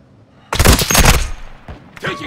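Rapid automatic gunfire bursts in the Call of Duty: Modern Warfare II video game, loud and close, with a dense volley followed by a pause and a shorter burst, alongside in-game voice callouts.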